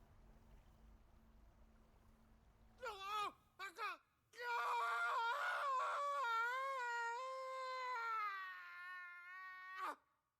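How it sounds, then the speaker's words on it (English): In Final Fantasy 16, a character's drawn-out, wavering scream rises after two short sharp cries and holds for several seconds before a final brief yelp. It is loud and close, and voices can be heard in the scene. "That was not a very blood-curdling scream."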